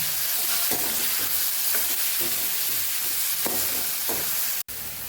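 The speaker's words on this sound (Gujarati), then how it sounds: "મસાલાને સરસ મિક્સ કરીને હવે આપણે સાતળી લેવાનું છે" Spice masala of turmeric, red chilli powder and coriander-cumin powder sautés in a pan for a Kathiyawadi raw mango curry, giving a steady close sizzle broken by several soft stirring scrapes.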